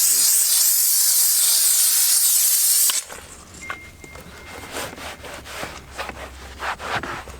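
Loud hissing steam from a steam cleaner on a car interior blasts for about three seconds, then cuts off, followed by quieter scrubbing and rubbing sounds.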